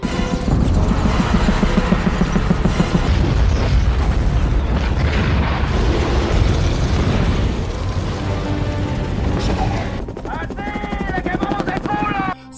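Movie explosion effects roar loud and sustained as a stunt rider flies a motorcycle through blazing fire, a dense rumbling blast that fades into quieter debris and crackle near the end.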